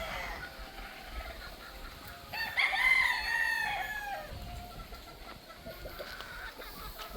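Pure-bred breeder rooster giving a single crow of about two seconds, moderately near, over a quiet rustling farmyard background, with no speech.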